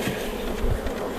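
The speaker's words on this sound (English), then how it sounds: "Now these bees will be very upset tonight, because they will feel that they are" Honeybees buzz inside a queenless cell builder hive, a dense close hum of many wings with shifting pitch and small surges, steady throughout with no voices.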